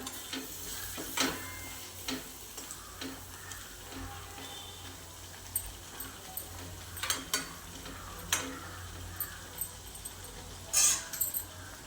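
Quiet sizzling and scattered ticking stirs rise from spice masala with garam masala and red chili frying in a pan for mutton keema, soft and close, with no talking.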